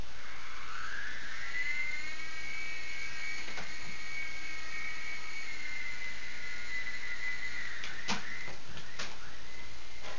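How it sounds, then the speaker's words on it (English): A toy helicopter being chased by cats gives off a steady, high-pitched whirring whine that rises at the start, holds for several seconds and breaks up near the end with a few sharp knocks and clatters. "And they will be chasing the helicopter."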